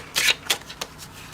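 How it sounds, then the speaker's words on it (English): A slippery deck of cards is shuffled during a card reading: a few quick riffling bursts, close and crisp, that taper off, with no talking. "This deck is very slippery to shuffle."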